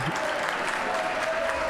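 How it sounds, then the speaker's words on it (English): Applause for the coaching staff fills a swimming banquet hall in a short burst of dense, loud clapping from a large crowd, with a faint voice underneath. "I'd like for everybody to stand up and get a big round of applause, please"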